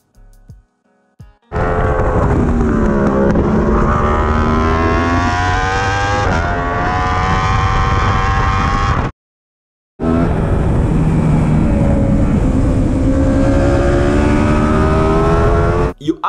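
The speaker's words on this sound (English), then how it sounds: "Knowing that you're going to make a fast corner and you're going to lean, you upshift earlier." Racing motorbike roaring loudly and close as it accelerates through a fast leaning corner after an early upshift, engine pitch climbing steadily, with a brief cut in the middle.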